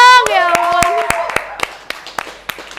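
A small audience claps in scattered, uneven bursts, with sharp individual hand claps trailing off after a voice speaks at the start.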